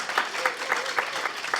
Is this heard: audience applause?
yes